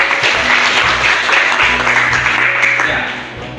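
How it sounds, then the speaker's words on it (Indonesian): A class of high school students applauds during a physical education lesson, loud continuous clapping that fades slightly toward the end. "Oke, tepuk tangan dulu."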